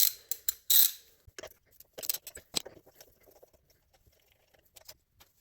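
A 13 mm wrench loosening nuts on the electrical cable terminals of a diesel drift trike's starter gives a quick run of close, dry ratcheting clicks, then scattered softer clicks and taps, with no talking.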